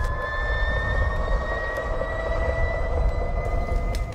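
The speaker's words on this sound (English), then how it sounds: "A lot of the people who have ridden this motorcycle say it sounds like a jet turbine" A Harley-Davidson LiveWire electric motorcycle motor gives off a steady, turbine-like whine, with thin high tones running over a low rumble of road and wind noise for the whole stretch.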